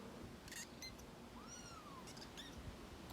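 A cat meows a few times indoors, short high calls rising and falling over a steady background hiss, fairly faint and with no talking.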